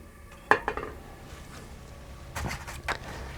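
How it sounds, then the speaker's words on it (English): Raw eggs for Easter dyeing are set into a pot with a spoon, giving a few sharp metallic clinks and knocks spaced apart, then a short clatter near the end against a quiet room. "I'm using a spoon to put my eggs into the pot gently so they don't break."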